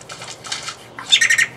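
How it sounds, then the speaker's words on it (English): Birds squawk and flap on a neighbor's roof, a few harsh calls in two or three bursts close by, loud and alone with no talking. "I hate those birds."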